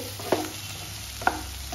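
Capsicum and bell pepper stir-fried in a pan over a high flame, a faint steady sizzle with two brief scraping clicks of a spatula stirring.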